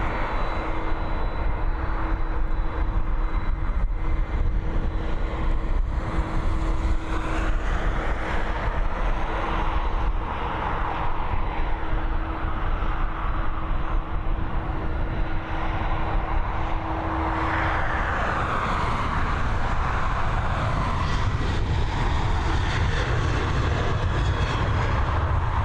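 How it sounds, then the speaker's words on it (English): A six-year-old airliner, first registered in 2017, begins its takeoff run on runway 10R at Dublin Airport, its jet engines producing a loud, steady roar that holds throughout. "She's now beginning her run along a runway 10R here."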